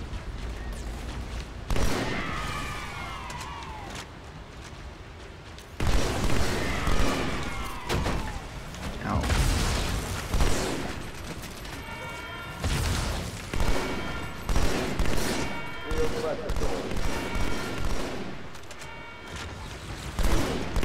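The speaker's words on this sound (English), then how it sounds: "I can see the explosion from here." Explosions and gunfire in the Halo 2 video game keep up a dense, loud barrage of booms and rattling shots, continuous over the whole stretch with no pauses.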